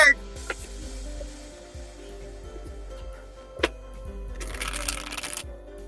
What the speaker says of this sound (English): I'm shuffling the cards now, Ambana.